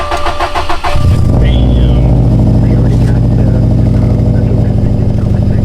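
A 2019 Subaru STI making about 500 wheel horsepower cranks briefly, catches and starts, then settles into a steady, loud idle that continues to the end.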